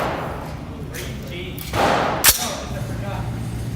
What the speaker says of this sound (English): And release the bolt.